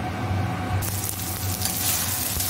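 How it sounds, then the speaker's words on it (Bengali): Spices being sautéed in a pan, a steady close sizzle of hot oil that brightens partway through, with no talking. "দেখো মশলা কষানো চলছে"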